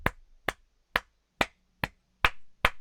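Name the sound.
hands clapping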